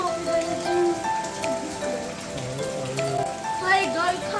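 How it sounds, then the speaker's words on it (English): Steady rain falls on a gloomy day on a road trip around New Plymouth, New Zealand, a soft continuous patter under a person speaking throughout. "it's raining"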